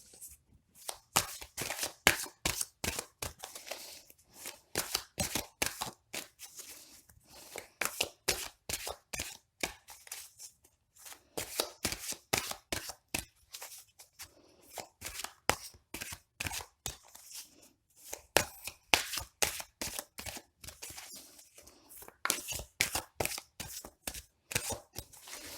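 Playing cards shuffled by hand before a draw, long runs of quick crisp riffles and flicks close by, pausing briefly and resuming, with no talk.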